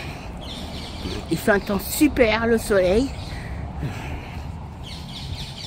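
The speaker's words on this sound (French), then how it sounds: "on entend les oiseaux chanter le mois de mai, la nature." Birds call and sing in a Paris city park in May, a short burst of sharp chirps and caw-like cries close by, while someone speaks French over quiet outdoor ambience.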